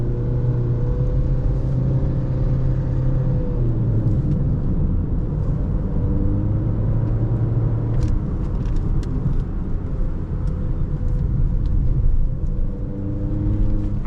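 Honda Amaze 2024 facelift with CVT gearbox in sport mode, engine held at steady revs with a continuous droning hum from inside the cabin, moderately loud, a few faint clicks late on, no talking.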